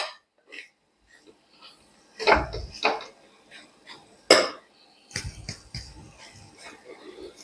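A ladle scrapes and clanks against a cooking pot while stirring a dry dish of pointed gourd and eggplant, a few sharp metallic strokes with quiet gaps between them.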